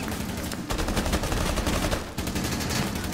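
Rapid automatic gunfire in Rainbow Six Siege, dense continuous bursts of shots close and loud, with a brief gap before firing resumes.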